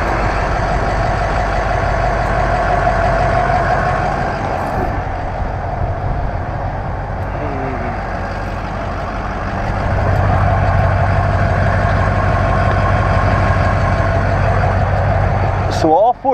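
A 2005 Ford F-350 turbo diesel pickup with a 5-speed manual idles nearby, its low, steady engine rumble continuous throughout and growing heavier partway through, while a person talks over it.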